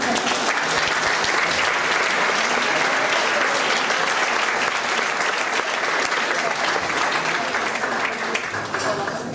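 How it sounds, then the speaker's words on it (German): Sustained, loud applause from the audience at the opening of a contemporary art fair, a steady wash of many hands clapping with a faint murmur of voices underneath. "Lieber Peter, sei herzlich begrüßt und ein Applaus."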